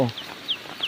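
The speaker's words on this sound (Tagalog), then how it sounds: "Sinalubong ako ng manok ko." A pet chicken clucks three short times near the mic, with brief rustling before, in a quiet spot at home.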